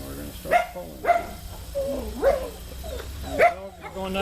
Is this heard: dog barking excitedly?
yes